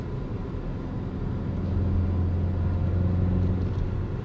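Steady low engine rumble from a 2015 Volkswagen Golf GTI SE while driving, heard from inside the cabin as a smooth, continuous drone that rises slightly partway through.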